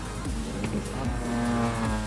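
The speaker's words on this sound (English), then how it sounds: "Dylan D is gonna make some burnouts here." Racing car in GT Sport performing burnouts, tires squealing over a revving engine in short repeated bursts, with the pitch sliding up and down.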